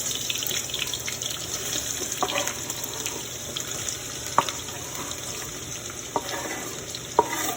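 Chopped onion, habanero and lunch meat fry in hot oil over high heat, a constant close hiss broken by a few sharp clicks of stirring.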